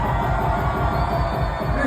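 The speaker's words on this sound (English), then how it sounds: "They should make some noise for themselves." A lively crowd cheers and yells steadily, a thick sustained roar of many voices with a low throbbing hum beneath it, heard from close by.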